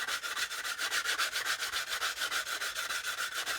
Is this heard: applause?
no